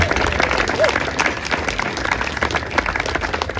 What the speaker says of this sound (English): So all of you deserve like a big round of applause.